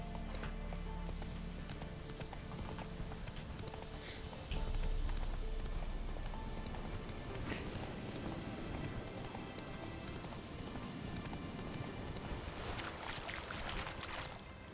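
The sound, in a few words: horse Roach galloping in The Witcher 3 video game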